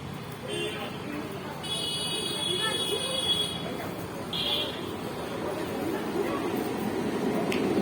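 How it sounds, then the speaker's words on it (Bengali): A Lakshmikantapur local train pulling into a station, with a horn sounding in short high blasts over a low rolling rumble and station bustle, while people talk nearby. "ওই যে ট্রেন ঢুকছে"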